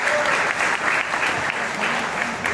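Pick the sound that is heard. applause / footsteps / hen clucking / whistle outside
applause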